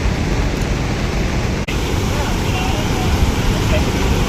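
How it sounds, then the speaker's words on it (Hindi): Floodwater rushing down during a flash flood in Manali, Himachal Pradesh, heard as a steady, loud broadband roar filling the whole span without letup. "आगे इतना पानी आ रहा है।"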